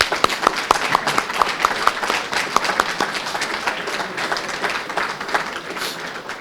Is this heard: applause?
yes